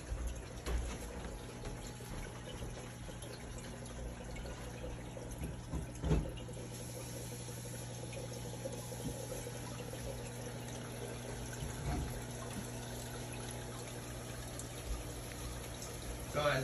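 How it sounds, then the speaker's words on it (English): Water filling a container for a fish tank, a steady running flow with a low pump-like hum beneath it and a few small bumps and clunks along the way. "I have to go and get some water to fill it up real quick."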